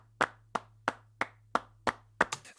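Soft flamenco-style hand claps, played lightly and layered from several takes, land as eight evenly spaced, crisp claps about a third of a second apart, with a low steady hum beneath.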